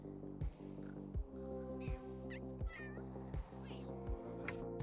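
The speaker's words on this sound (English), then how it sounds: "I'm gonna go over there and let the cat sniff your hand." Repeated cat meows from a pet cat in The Sims 3 video game, several short calls spaced evenly over steady game music, fairly loud and close.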